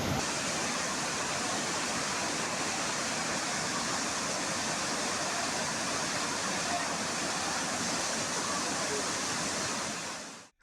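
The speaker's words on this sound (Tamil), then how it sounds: "குற்றால மெயினருவி, 5 அருவிகளில் காட்டாற்று வெள்ளம் ஏற்பட்டுள்ளது." Flash flood water roaring down the Courtallam main falls, a dense, steady broadband rush of torrential water that stays loud and unbroken throughout with no voices.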